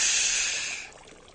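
A voice imitates the whooshing of the sea with a single breathy hiss that starts loud and fades away over about a second.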